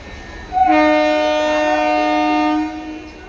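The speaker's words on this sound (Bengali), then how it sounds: "একটু পরেই ট্রেন আসবে।" A train's horn sounds at a railway station bound for Barrackpore, a sustained, loud, harmonic blast lasting about two seconds, then fading, with no talk over it.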